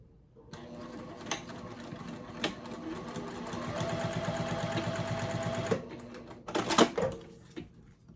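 A sewing machine stitches a strap connector for a Lola bag, running in a steady, close mechanical whir for about five seconds, then stopping before a few handling clicks and rustles.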